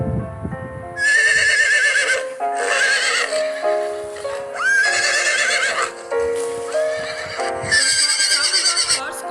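A horse neighing loudly and close, with three long, high, shaking whinnies in a row and short pauses between them.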